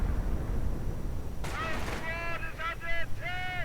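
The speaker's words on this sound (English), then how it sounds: "Mortar fire." Mortar fire in a real-time strategy game, a sharp burst of impact followed by whistling, siren-like tones in short repeated bursts over a low rumbling battle bed.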